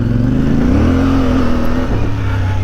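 A CFMoto 450MT motorcycle engine revs steadily while riding, a loud, continuous drone close by with pitch climbing and then holding before dipping near the end, no talk over it.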